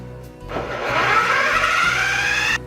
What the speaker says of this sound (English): And I'm going to just blend this up real quick to get that knocked down.